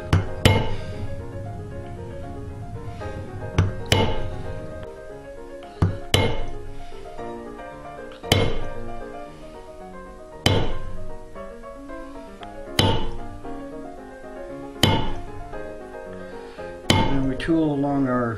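A metal tooling tip is struck along a scribe line on a leather belt, producing sharp, evenly spaced knocks about every two seconds, close and ringing briefly, with a voice talking between strikes.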